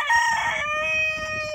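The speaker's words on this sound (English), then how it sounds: "in with the roosters" A rooster crows loudly and close by, one long drawn-out cock-a-doodle-doo call with strong harmonics that fills the whole moment, with other fowl faintly audible in the background.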